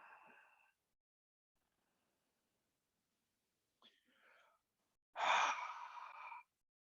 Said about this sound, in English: You constrict your epiglottis right here. So you're going to hear yourself breathing in.